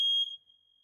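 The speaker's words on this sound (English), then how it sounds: "it set off the smoke alarm" A household smoke alarm sounds off after being set off by dinner cooking, one loud piercing high tone that cuts out and leaves a faint ringing tail, with no talking.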